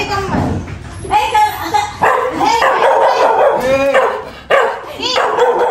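A dog barks repeatedly at a house, loud and close, in sharp bursts mixed with yips, while people talk and call out over it.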